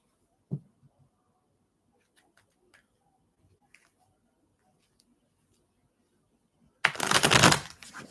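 Near-silence with a few faint taps, then a quick, loud riffle of tarot cards being shuffled close by.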